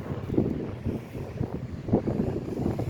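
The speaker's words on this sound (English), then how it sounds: "The wind has really picked up, so that's affecting this a little bit." Gusty wind buffets the microphone outdoors beside the water during a fishing trip, a steady low rumbling roar that swells and eases without pause, close and fairly loud, with no talk.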